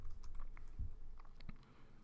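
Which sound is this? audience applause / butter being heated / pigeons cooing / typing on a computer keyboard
typing on a computer keyboard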